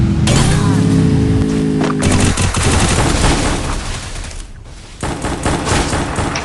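Dense, loud bursts of automatic gunfire and rapid shots in a shooting video game, continuous rattling volleys close up with a brief lull before firing resumes.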